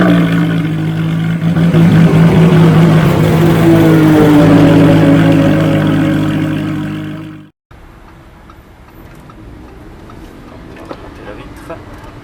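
A Lamborghini Huracan LP610 supercar engine roars loud and close with a rising and falling drone, then cuts off abruptly to a quieter low rumble.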